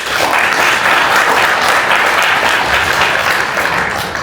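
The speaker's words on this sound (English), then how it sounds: "So get a round of applause to yourself." A large audience bursts into sustained applause, a dense, even roar of many hands clapping at once that holds steady throughout and eases slightly at the end.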